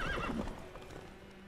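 Horse in The Witcher 3 gives a loud whinny over quick hoofbeats as it gallops, close and clear, with the neigh fading after the first moment while the clip-clop keeps going alone.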